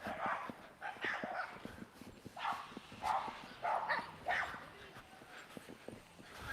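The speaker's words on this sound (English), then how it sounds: "Oh, there's a dog." Dogs barking and yipping in repeated bursts a short distance away outdoors, as a woman walks one dog past another woman with two dogs that are going crazy; the barks rise and fall over a few seconds.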